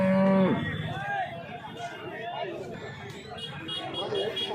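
Cows at the Sangola cattle market, with one loud, close moo at the start, followed by a busy crowd of people talking and low livestock noise throughout.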